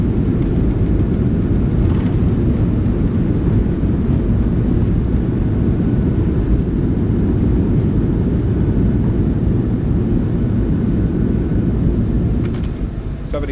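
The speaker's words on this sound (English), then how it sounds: "Reversers are out." Boeing 737-700 thrust reversers in a flight simulator game roar loudly on landing, a steady dense low rumble that holds evenly for the whole stretch before easing slightly at the end.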